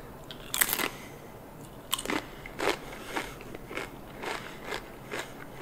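Blue tortilla chips with guacamole are bitten and crunched close up, about eight crisp bites and chews in an irregular rhythm over a soft background hiss.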